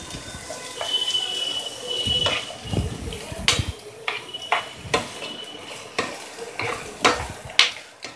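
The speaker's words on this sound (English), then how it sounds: "I had like 1 box of mushrooms sliced and added to your olive oil" Sliced mushrooms fry in olive oil over a medium flame, a soft sizzle broken by repeated scrapes and clinks of a utensil stirring against the pan.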